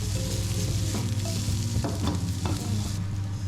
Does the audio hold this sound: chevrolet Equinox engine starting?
no